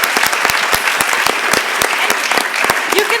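A small audience at a design education panel in Eindhoven applauds, a sparse, close run of distinct individual claps lasting a few seconds.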